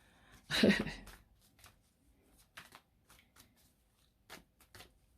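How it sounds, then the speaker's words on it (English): Fallen tarot cards are gathered up by hand, starting with one close, loud riffling flutter, then several brief, softer card slaps and slides spaced out over a few seconds. "A bunch of cards fell out. I just need to make sure I pick them all up."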